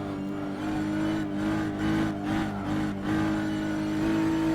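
A race car in a racing game at Barbagallo Raceway, its engine droning loudly with the throttle feathered through a corner, pitch dipping and rising in short surges, with faint tire noise.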